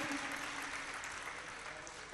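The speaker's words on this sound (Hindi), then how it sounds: "तो आप इनके लिए भी एक बार जोरदार तालियां बनाएं" Steady applause from an audience at a spiritual discourse fills the whole stretch, a dense, even clatter of clapping hands without any pause.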